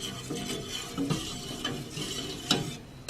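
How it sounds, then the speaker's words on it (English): Vanilla pudding thickens in a pot while a rubber spatula stirs it, producing soft, irregular scraping strokes with a few light knocks against the pot, close and moderately quiet, with no talking. "let's just keep mixing"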